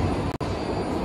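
A BART Blue Line metro train at a station platform gives a dense, steady rumble of wheels and motors with a brief break in the noise, close and loud.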